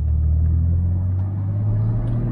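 A 1991 BMW 325i M Technic with a 5-speed manual, heard from inside while driving: a steady low engine and road rumble runs close and constant under the cabin, with no one talking.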